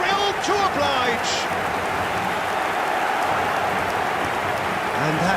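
In a football video game, a stadium crowd lets out a dense, continuous roar that stays loud and even throughout, with a few voice-like bursts cutting in near the start and end.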